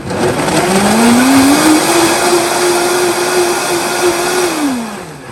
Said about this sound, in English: Okay, let's blend away.